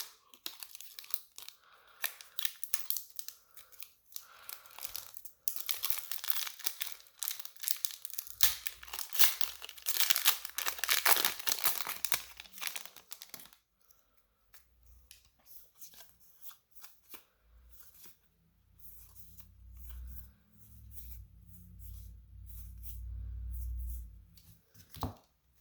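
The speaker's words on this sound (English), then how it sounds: "then we'll open up the 2 packs that came with this one" Theros Beyond Death Magic: The Gathering booster packs are torn open by hand, their foil wrappers crinkling and ripping in close, busy bursts, then falling into quieter handling with a low rumble near the end.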